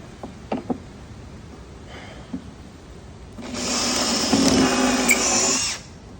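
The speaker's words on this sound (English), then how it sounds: "Drill one hole," After a few light taps, a power drill whirs loudly for about two seconds, a steady high-pitched grinding bore through the back of a drawer that stops abruptly.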